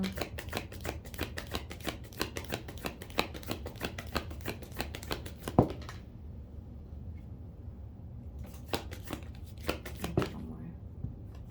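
Tarot cards are shuffled in quick, crisp riffling flicks, a steady close run of papery slaps that pauses briefly, then resumes with a few more.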